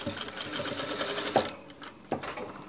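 A North Kazakhstan craftswoman's sewing machine stitches a long quilt, a rapid, close mechanical whirring with sharp clicks near the end as the stitching stops.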